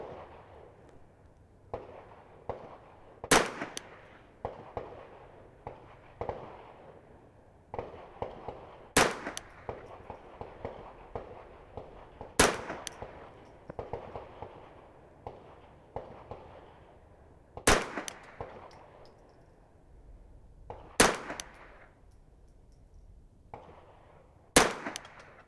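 A Brownells 10/22 Takedown rifle fires at an outdoor range, sharp sparse cracks spaced several seconds apart over faint background rustling and handling noise, heard from a moderate distance.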